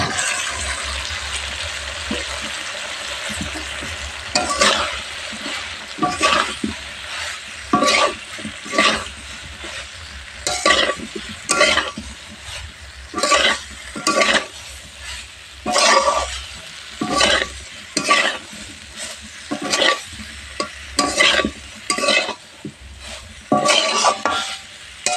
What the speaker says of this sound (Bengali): ফুলকপিগুলো ভালো করে কষে নেব